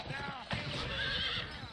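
A horse in the video game GUN (PlayStation 2) whinnies in a high, wavering call, followed by a second neigh, with hoof clops underneath.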